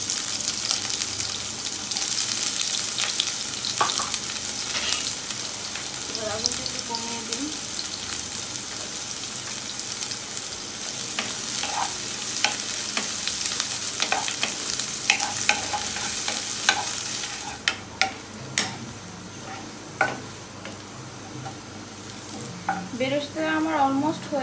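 Sliced onions fry for beresta in hot oil with a loud, dense crackling sizzle, stirred now and then; near the end the sizzle drops away, leaving sharp scrapes and some faint, muffled voice-like sounds.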